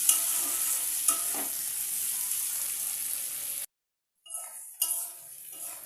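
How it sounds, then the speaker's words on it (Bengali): Vegetables are stir-fried in a home kitchen pan until reddened, a steady close sizzle with occasional utensil clinks, a brief silent break, then more sizzling and stirring. "চলো এটা ভালো করে লাল করে ভেজে নিই"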